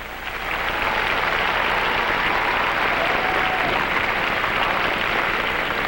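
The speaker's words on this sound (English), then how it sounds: "How about a big round of applause for everyone who's performed so far?" Audience applause at the Miss Pennsylvania pageant talent competition in 2000, a full, sustained wash of clapping from a large crowd that swells quickly and holds steady throughout.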